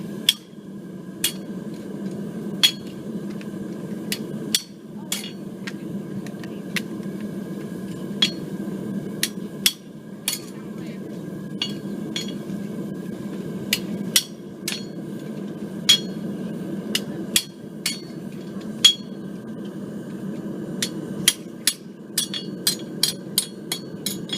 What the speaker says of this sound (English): I'm going to take, this is called a pritchel. Tool steel, very sharp. And I'm going to drive this through the steel.